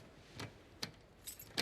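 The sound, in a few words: keys jangling in The Last of Us Part II video game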